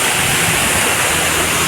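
Black Rocks waterfall, a loud, dense, unbroken roar of rushing water close by that stays steady from start to end with no voices.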